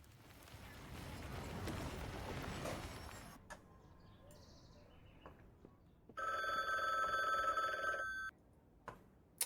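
A telephone rings in the video game The Bookwalker, Thief of Tales: a steady, bright electronic ring with strong tones lasts about two seconds, after quieter game ambience and a few small clicks, with no one talking.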